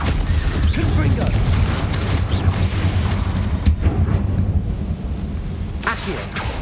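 Explosive Confringo spell blasts boom in Hogwarts Legacy, several heavy thuds and sharp cracks rolling over a constant rumbling game backdrop, with a couple of distinct punchy hits near the end.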